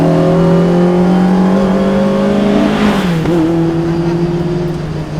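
A Lotus Exige S1 sports car driving on a road, its engine loud and close with a steady tone that climbs, drops off as the driver shifts, then settles again, with no talking over it.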